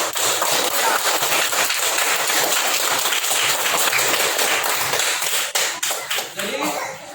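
Students in a classroom applauding a group with sustained, dense clapping that stays loud throughout, with scattered voices underneath.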